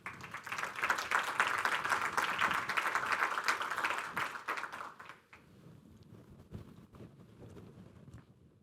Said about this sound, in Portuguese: gio Santos, diretor da Banca Digital do BPI, para quem eu peço o vosso aplauso.